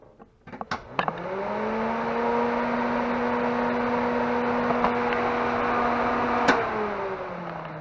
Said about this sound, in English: this is like kind of the typical Ford Windstar fan setup